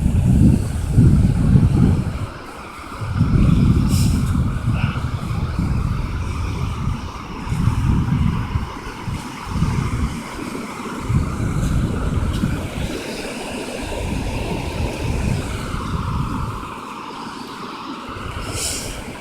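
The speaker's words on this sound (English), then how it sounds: "Even at night, because the sound of the waves is wonderful." Ocean waves roll onto a beach at night, low rumbling surges that swell and fade in irregular pulses, mixed with heavy wind buffeting the microphone, with no voices.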